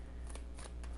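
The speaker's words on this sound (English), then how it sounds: "So let's shuffle the cards, cut them, and get right down to business." Tarot cards are shuffled by hand in three quick riffling bursts, close and soft, over a low steady background hum.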